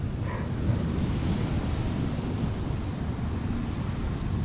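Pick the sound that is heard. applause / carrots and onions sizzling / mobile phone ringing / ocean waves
ocean waves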